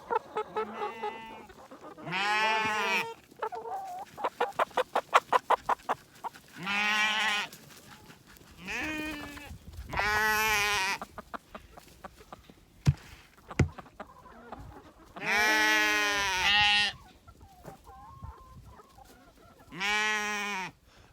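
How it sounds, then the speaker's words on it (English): Sheep bleat loudly and repeatedly at close range while chickens cluck and chatter around them, with short quiet gaps between the calls. "Surrounded by chickens and some very hungry sheep by the sounds of it."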